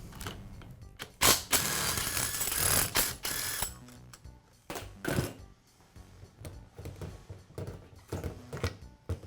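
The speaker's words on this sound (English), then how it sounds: "I'll begin by removing the barrel from the gearbox. The barrel is secured with 4 bolts." Bolts holding the barrel to the gearbox of a Makita demolition hammer are loosened with a ratchet, giving close, rapid clicking bursts and metallic handling noises broken by brief pauses.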